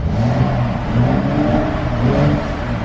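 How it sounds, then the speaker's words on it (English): Exhaust note of a 2019 Mercedes-AMG GLC 43 4MATIC with the AMG exhaust, a steady deep engine hum with gentle rises like light revving, heard close and loud with no talking. "This one does come with the AMG exhaust."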